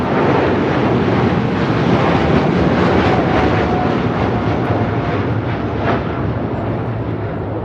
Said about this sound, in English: This is Cargo Lux 19 Kilo taking off to Luxembourg on a 747-8 freighter.